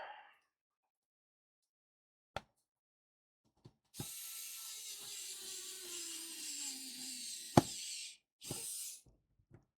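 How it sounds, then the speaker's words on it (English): A hand ratcheting screwdriver clicks during repair of a Cen Tech model 97245 metal detector, with a few isolated sharp clicks followed by a longer run of steady ratcheting and short bursts, close and quiet. "Hand screwdriver."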